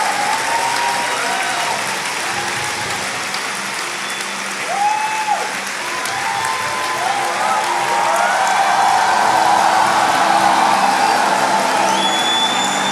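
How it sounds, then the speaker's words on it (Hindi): A church congregation claps hands together in sustained, loud applause that swells toward the end, with scattered whoops and voices mixed in. "तालियां बजाओ."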